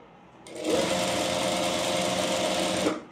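A sewing machine runs steadily for about two and a half seconds, stitching the folded hem of a pleated petticoat with a close, even mechanical whir and no talking.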